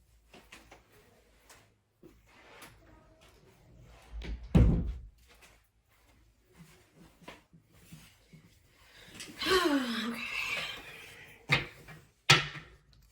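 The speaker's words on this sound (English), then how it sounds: "I gotta close the door." A door swings shut in a quiet room with a single solid thunk, followed later by a few softer knocks and rustles.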